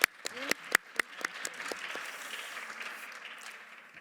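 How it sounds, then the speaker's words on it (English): Applause from a conference audience begins with a few sharp, separate claps and swells into steady clapping that slowly fades over several seconds. "please give an applause."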